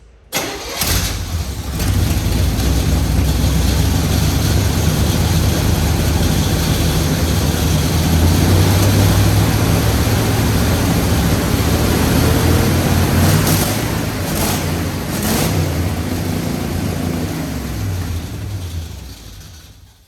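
A shop truck engine, fitted with headers and lacking a throttle return spring, runs steadily after start-up, a loud continuous low rumble with a few revs, close by with no talk.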